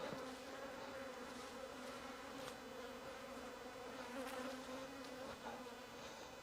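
Honey bees hum in an opened hive during an evening hive inspection, a steady, dense, fairly quiet drone with no talking.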